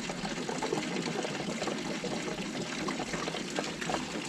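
Fluid drains out of a pony engine being removed, a steady trickling pour into a container that runs continuously without a break.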